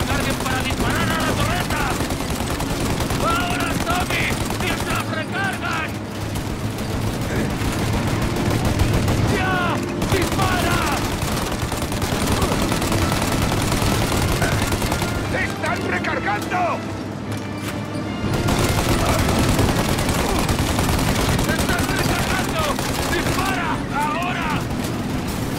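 Rapid bursts of heavy turret gunfire pound continuously amid loud, dense action in the game Mafia: Definitive Edition, with someone talking over the shooting.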